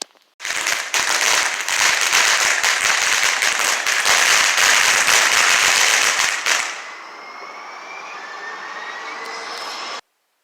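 A dense, rapid crackle of fireworks goes off nonstop for several seconds on a foggy night, then cuts out, leaving a fainter droning hum.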